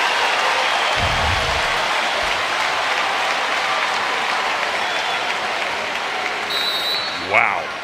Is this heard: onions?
no